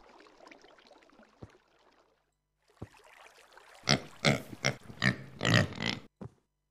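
Pigs grunt in the Minecraft video game, a few faint snorts followed by a louder cluster of close, choppy oinks and grunts, with brief pauses between bursts.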